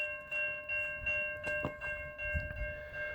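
Low rumble and rhythmic rail clatter come from a slow CN mixed freight train passing eastbound at a level crossing in Newtonville, Ontario, with intermittent metallic squeals over a steady tonal hum, close and continuous.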